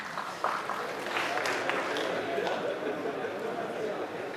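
An audience at a talk in Jabalpur claps in a dense, steady patter that runs throughout, with someone speaking over it.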